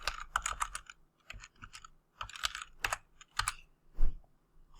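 Rapid bursts of clicking keystrokes on a computer keyboard during CAD layout work, clustered in quick runs with short pauses, close and clear with no talking.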